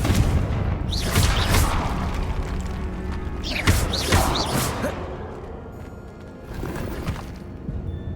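A Confringo fire spell in Hogwarts Legacy goes off in a few sharp, bright bursts with crackling, whooshing tails and low booms, moderately loud against a steady game background.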